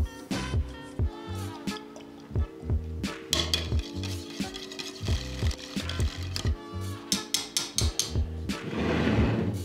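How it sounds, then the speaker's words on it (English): A utensil stirs hot sauce into buttermilk in a bowl, producing repeated clinks and scrapes against the dish over steady background music. "Add hot sauce to buttermilk and stir."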